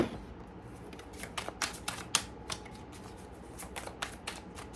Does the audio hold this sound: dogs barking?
no